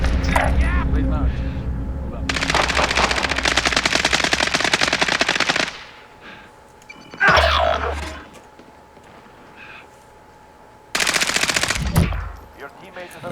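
A minigun fires in a video game, long rapid bursts of loud continuous gunfire separated by pauses, with shorter bursts later and some brief clinking between them.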